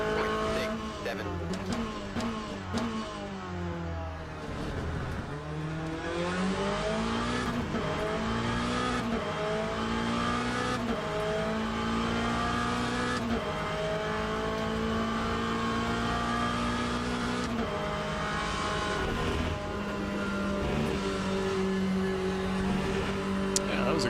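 Race car engine in Le Mans Ultimate, a racing video game, drones steadily throughout with rising and falling pitch as it shifts gears, joined by occasional tire squeal and a voice talking over it.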